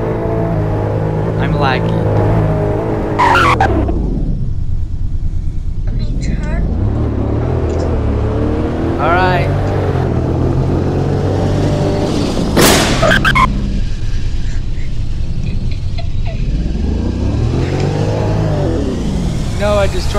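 A 2022 Lincoln Corsair cruising at 55 mph on a highway, steady road and engine rumble with tire noise throughout, a few whooshes of passing traffic, and people talking inside the cabin over it.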